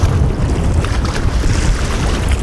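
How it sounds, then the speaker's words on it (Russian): Wind blowing across a fishing spot on a crucian carp outing, a loud, continuous roar of gusts buffeting the microphone with heavy low rumble and no voices. "Блин, ветер поднялся"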